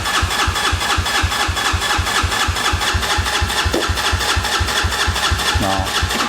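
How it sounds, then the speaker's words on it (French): A buggy's engine cranks as the key is turned, a loud, steady, rapid chugging rhythm that runs throughout without catching, close to the microphone. "c'est d'aller tourner la clé pour faire tourner le moteur"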